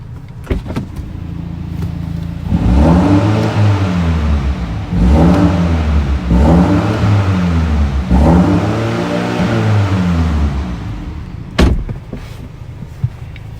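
A 2020 BMW M235i xDrive Gran Coupe engine fires up, then revs in three rising and falling bursts before settling, loud and close, with a sharp click near the end.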